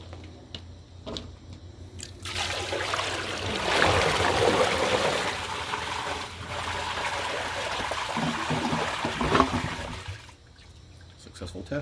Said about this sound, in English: we'll flush a terry cloth in the Rockwell with a bucket of, well, approximately 3 gallons of water.